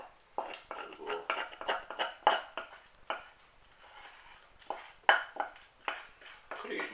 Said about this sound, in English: scoop this from the pan into the thing